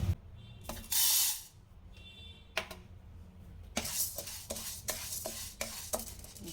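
Chana dal dry-roasting in a pan while being stirred, scattered scraping and rattling bursts of dry lentils against metal, with a few louder sweeps, close and unaccompanied by talk.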